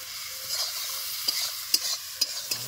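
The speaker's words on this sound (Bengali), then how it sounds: "আবার নাড়াচাড়া করে নেবো একটু।" Onion and tomato being stirred as they fry in a pan, a steady soft sizzle broken by a few sharp scraping knocks of the spoon, close and alone with no talk.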